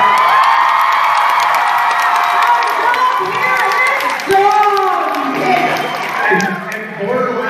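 At a fan convention panel, an unruly crowd cheers and shouts loudly throughout, with excited voices and whoops blending into a continuous roar.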